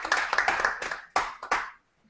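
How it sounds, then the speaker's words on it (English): A small group claps for presenters after a class presentation, a short burst of scattered, fairly quiet hand claps that thins out and stops within about two seconds. "they deserve a round of applause"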